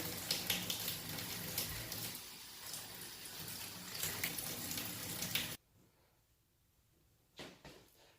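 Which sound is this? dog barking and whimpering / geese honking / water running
water running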